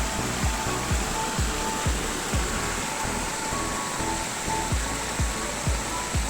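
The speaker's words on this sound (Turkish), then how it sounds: "Bakın şurada da şöyle sular var." Stream water rushes beside a restaurant at Paşaderesi in Çameli, Denizli, a steady broadband roar heard close, with soft regular thumps from footsteps or handling running through it and no clear speech.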